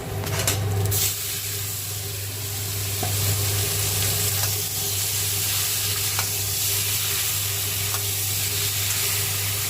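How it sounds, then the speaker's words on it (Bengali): Marinated chicken hits a pan of fried onions with a loud, close, continuous sizzle and hiss, with a burst of crackle at the start and some stirring as the frying goes on. "পেঁয়াজটা ভাজা হয়ে গেছে, এবার ম্যারিনেট করা চিকেনটা সব ঢেলে দেব"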